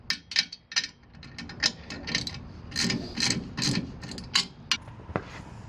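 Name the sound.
tightening transport rack bolts with a ratchet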